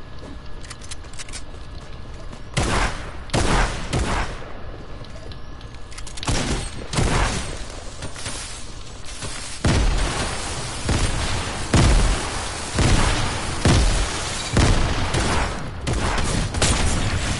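Shotgun blasts boom in an online multiplayer video game, several loud heavy shots spaced a second or two apart over a continuous backdrop of game noise and distant gunfire.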